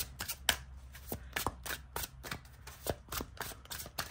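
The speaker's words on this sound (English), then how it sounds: "Let's see how well this shuffles." Pastoral Tarot cards riffle-shuffled in quick repeated bursts, each a crisp fluttering rattle, close up and fairly quiet, with a soft murmur of voice in the background.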